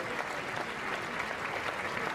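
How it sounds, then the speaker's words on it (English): A racecourse crowd at Ascot applauds and cheers the winning jockey, a dense, steady wash of clapping and crowd noise heard from a distance. "a huge cheer as well for him"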